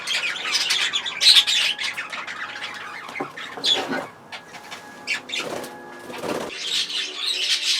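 Budgerigar cockbirds in an aviary flight give sharp chattering squawks and bursts of wing flapping, close and busy, with intermittent quieter gaps between flurries.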